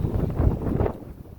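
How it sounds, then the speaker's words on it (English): Gusty wind buffets the microphone on a high mountain trail near Bullfrog Lake in the Sierra Nevada, a steady low roar that fades somewhat toward the end, with no voices. "It just got windy"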